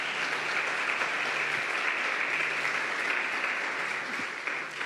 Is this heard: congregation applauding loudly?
yes